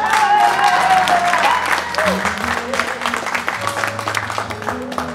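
Wedding guests break into loud, sustained clapping that fills the room, thinning slightly toward the end, with voices and cheers mixed in among the applause.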